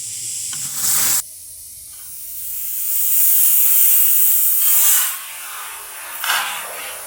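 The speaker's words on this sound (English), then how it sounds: "what happens if you chuck a canister of shaving foam into the press" A shaving foam canister crushed in a hydraulic press, with a short spray burst, then a rising and fading hiss of escaping gas and foam, close and fairly loud, and no talking.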